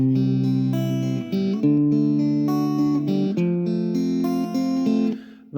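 Guitar plays a simplified arrangement of House of the Rising Sun, a steady sequence of strummed and picked chords with sustained ringing notes, close and clear with no talking.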